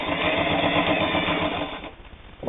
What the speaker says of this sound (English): No problem sewing 2 layers of fairly heavy split leather.